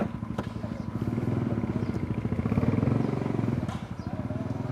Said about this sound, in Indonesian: Suara motor itu.